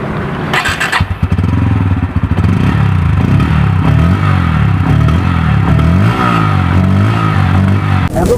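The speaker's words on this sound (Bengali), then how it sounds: "তাহলে একবার আমরা নিতে পারি যে এটার এক্সস্টের সাউন্ডটা কেমন করেছে।" A Bajaj Pulsar N160 motorcycle with a very short exhaust revs loudly and close up, its engine note rising and falling in repeated throttle blips, with a clattering burst near the start.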